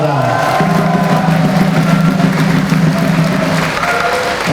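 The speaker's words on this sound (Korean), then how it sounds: "여러분 같은 생각이면 박수 한번 쳐주시기 바랍니다" An audience at a political rally in North Chungcheong breaks into sustained applause. Dense clapping holds at an even level throughout, layered over a low, humming mix of crowd noise.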